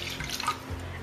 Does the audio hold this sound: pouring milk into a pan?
yes